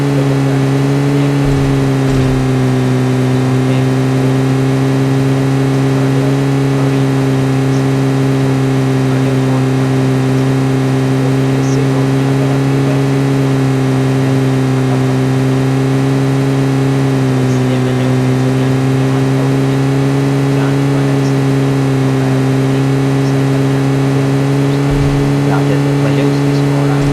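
A car engine in the video game PUBG Mobile drones loud and steady for nearly half a minute, a strong sustained hum with slight dips in pitch as it revs, with no speech over it.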